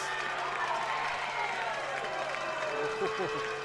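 Spectators at a high school regional semi-final baseball game in Shallowater reacting to a play at second base, a broad crowd murmur running under a commentator's voice.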